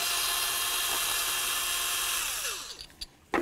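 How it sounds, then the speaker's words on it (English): A power tool spins out the ignition coil mounting bolt on a GMC Acadia engine, a steady high whine that winds down near the end, followed by a few short clicks and knocks close by. "Remove your mounting bolt right here."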